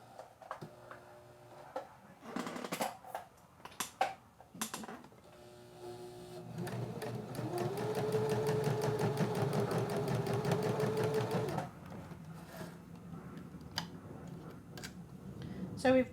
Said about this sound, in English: So we've just stitched right across the top, really close to that folded edge of our pocket.